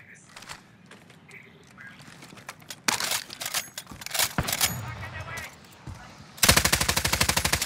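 Gunfire in a Spanish-language multiplayer shooter video game: scattered shots and bursts give way to a loud, rapid machine-gun stream near the end, with people talking over the action.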